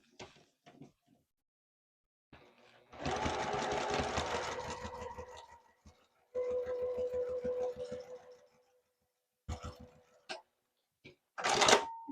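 A domestic sewing machine stitches a seam on a small fabric desktop caddy made from 6-inch squares, in two close, steady runs of rapid mechanical whirring, with short handling clicks and rustles around them.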